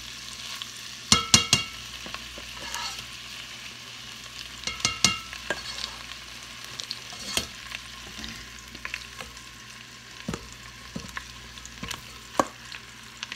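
Boiled, mashed potatoes scraped out of a pot with a utensil, heard as intermittent sharp scrapes and knocks in irregular clusters over a low steady background, close and fairly loud, with no talking.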